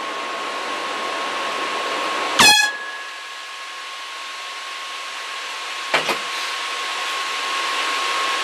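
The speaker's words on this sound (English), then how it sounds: "Here's an air horn." A steady mechanical whir of Sager NP9873 / Clevo P870DM3 laptop fans runs throughout, broken by one sharp loud air horn blast and a second shorter burst later.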